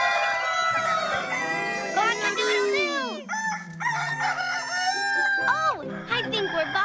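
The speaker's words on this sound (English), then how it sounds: "Oh, I think we're bothering Mr. Rooster" Cartoon rooster crowing, loud drawn-out cock-a-doodle-doo calls rising and falling several times in a row, heard up close with no talk over them.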